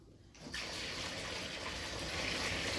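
A shower faucet, just repaired after a leak, is turned back on, and water suddenly starts running in a steady, loud, hissing stream that continues to the end.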